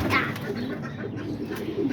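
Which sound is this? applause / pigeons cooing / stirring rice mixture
pigeons cooing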